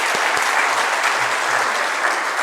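An audience at an annual general meeting applauds the office bearers, a steady dense wash of clapping throughout with no voices over it.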